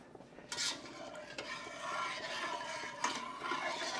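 A spoon stirs cane sugar into homemade cranberry juice, giving a few scraping, clinking swirls against the container, close and fairly quiet, with soft liquid movement between them.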